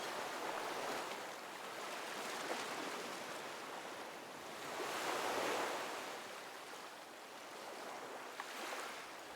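Strong wind roars steadily at Vero Beach, rising and falling in broad gusts with surf washing beneath, and no voices.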